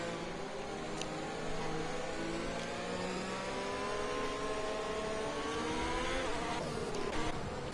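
Racing car engines in a racing game at the Bahrain GP, with several cars whining past at varied pitches, rising and falling as they accelerate, fairly faint and steady.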